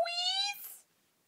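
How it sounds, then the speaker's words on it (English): An orange cat gives one close, clear meow lasting just under a second, rising slightly and trailing off, with nothing else heard around it. "Pardon me, that's just my little orange cat."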